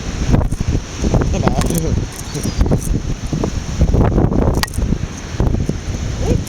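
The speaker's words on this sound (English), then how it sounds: "It's very windy, very stormy." Strong stormy wind buffets the microphone out on Worthing Pier, a continuous rough low roar with gusty surges throughout, while someone talks over it.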